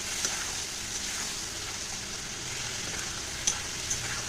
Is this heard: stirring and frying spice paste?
yes